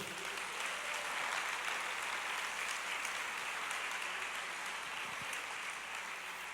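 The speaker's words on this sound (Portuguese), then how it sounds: "Você pode aplaudir o Senhor?" A church congregation applauds during a sermon, a steady wash of many hands clapping that holds evenly and fairly softly throughout, with no voice on top.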